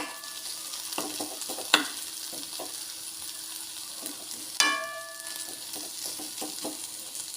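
Ivy gourd (kovakka) mezhukkupuratti frying in a pan, a steady soft sizzle with a few sharp scrapes and clinks of stirring, close and alone without talk.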